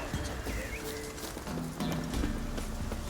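Horse hooves clip-clop in the Witcher 3 video game, a steady near trot of hoofbeats over low ambient game sound, with a faint bird call in the background.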